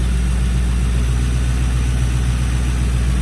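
A Lincoln Town Car's 4.6 fuel-injected engine idling, a steady close low rumble with an even, unchanging tone throughout and no voices.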